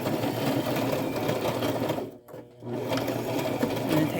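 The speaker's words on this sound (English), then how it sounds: "And then back stitch when you get to the end." A sewing machine back stitches a fabric bracelet, its steady close mechanical whir running continuously with a brief pause in the middle before resuming at full speed.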